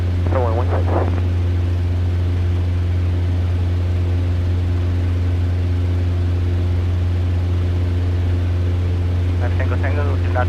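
A Cessna 150's propeller engine drones loudly and steadily through the cabin during a first solo flight at Renton Field, with brief radio-style voices heard at the start and end.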